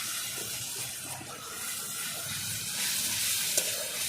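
Stingray pieces fry with turmeric, salt and spices in plenty of mustard oil, a steady, moderately quiet sizzle with faint stirring sounds and a small click near the end.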